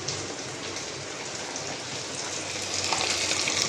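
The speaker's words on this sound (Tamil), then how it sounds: "அதை பொரிக்கிறோம்" Fish pieces fry in hot oil for an Odisha-style fish curry, giving off a steady, dense hissing sizzle that swells slightly toward the end, with no voices.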